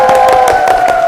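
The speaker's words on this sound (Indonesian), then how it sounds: "beri tepukan yang gemuruh buat bintang tamu kita" A studio audience at a talk show claps for a guest star, the applause brief and loud with some crowd noise, set against a steady sustained music tone.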